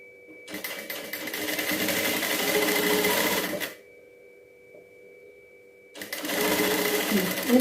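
A sewing machine stitches an invisible zip, whirring steadily and close for about three seconds, falling silent briefly, then running again in a second burst.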